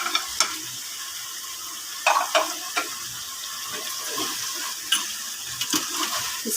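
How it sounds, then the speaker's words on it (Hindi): Boiled eggs and potatoes fry in a curry masala with yogurt in a pot, a continuous low sizzle broken by several scraping stirs and clanks of a spoon against the pan. "अब हम इसमें अंडे ऐड करेंगे।"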